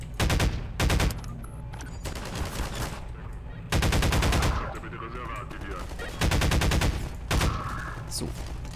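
A powerful weapon in Half-Life 2 fires repeated loud, close bursts, several short volleys spaced a second or two apart, over a low background rumble.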